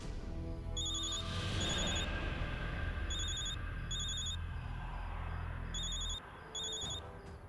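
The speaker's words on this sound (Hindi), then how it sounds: "चड्डा फोन कर रहा है।" A telephone rings in repeated short electronic bursts, fairly faint and high-pitched, over a low background hum, with no voices.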